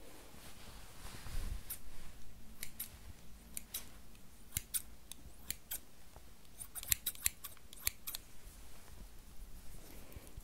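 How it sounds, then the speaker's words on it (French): Scissors snipping bay leaf stems in a quick series of sharp, crisp cuts, some spaced out and others in rapid clusters, close and fairly quiet. "J'ai ces ciseaux qui sont adaptés pour couper les plantes."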